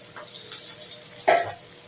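Koi fish with tempering spices sizzle softly in a wok under a constant faint hiss, with one brief, louder scrape of stirring near the end.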